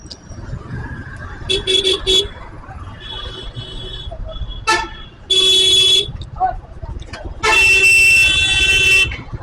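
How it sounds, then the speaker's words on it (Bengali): City traffic sits jammed on a road in Dhaka between Banani and Asad Gate, with repeated car horns honking in short and long blasts over a steady engine rumble while someone talks. "যে জ্যাম এখানে রে ভাই!"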